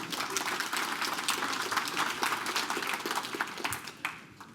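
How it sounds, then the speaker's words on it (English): An audience claps together in a sustained, even round of applause that stays loud and dense from start to finish, with no one speaking over it. "give yourselves a round of applause"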